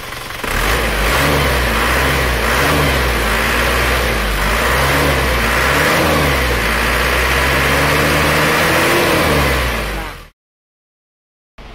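A diesel engine revs in repeated swells and dips while its injection pump timing is adjusted, loud and close for about ten seconds before cutting off to silence.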